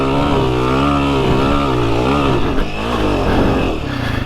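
A Honda CRF250F dirt bike engine revs loud and close, a steady buzzing drone whose pitch rises and falls through a couple of throttle swells with no talk.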